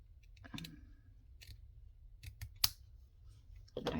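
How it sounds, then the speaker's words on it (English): Scissors snipping along a marked line on fabric or paper, a few faint, sparse clicks and snips close by in a quiet room. "Let me see if I can cut it right on the little line here."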